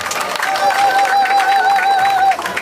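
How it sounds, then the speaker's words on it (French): Loud applause and cheering from mourners at a funeral honoring a doctor, dense clapping with a sustained high ululating or whistling voice running through most of it. "Applaudissons très fort sa mémoire."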